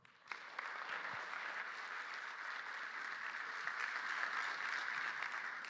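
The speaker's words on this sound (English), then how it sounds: "And please give him a round of applause." A conference audience gives a sustained round of applause at a tech talk on OpenTelemetry tracing, a dense, steady wash of many hands that starts abruptly and holds evenly, with no talking over it.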